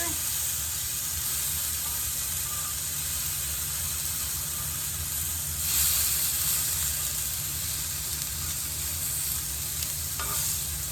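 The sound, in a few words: squash sizzling on a grill while being flipped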